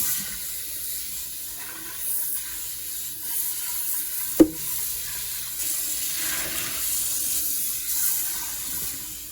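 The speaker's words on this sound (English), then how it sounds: "I'm gonna drain them and rinse them with cold water" Cold tap water runs steadily over soaked yellow split peas in a sink, a continuous hissing rinse with a single sharp clunk partway through.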